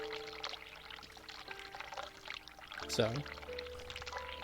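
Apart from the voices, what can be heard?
hot water pouring in a video game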